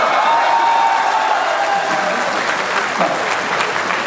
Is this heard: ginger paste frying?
no